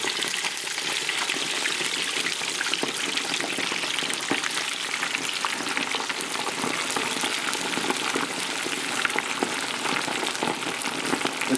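Cold chicken wings for tequila lime wings frying in hot oil, a dense, loud, continuous crackling sizzle with fine popping bursts that holds steady throughout and has no voices over it.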